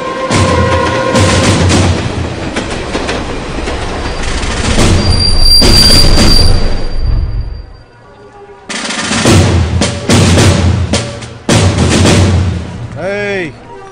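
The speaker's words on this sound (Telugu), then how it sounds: "మన తర్వాత వచ్చిన ట్రైన్ కూడా వెళ్ళిపోతుంది." A train passes in a Telugu action film, a loud, continuous broadband rumble and clatter that drops away briefly before surging back, with heavy booming layered in.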